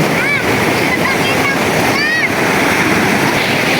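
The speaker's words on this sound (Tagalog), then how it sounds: "ibang maririnig kundi yung ingay po ng alon" A steady, loud wash of ocean surf roars throughout at Balas Island, broad and hissing like waves breaking close by, with brief chirps rising above it.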